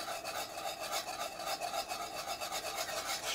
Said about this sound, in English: stirring them in so they don't clump or lump